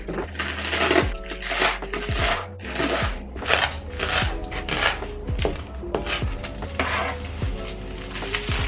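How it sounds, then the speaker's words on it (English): A knife chops garlic chives into short sections on a cutting board in a steady rhythm, with sizzling and kitchen clatter in the background. "I'm gonna go ahead and just start chopping these up into like 1-inch sections"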